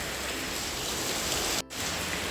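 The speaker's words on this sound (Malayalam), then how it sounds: "നല്ല മഴയാണ്, നല്ല പൊരിഞ്ഞ മഴയാണ്." Heavy rain pours down in a dense, even hiss of drops on surfaces, close and loud, with a brief dropout near the end.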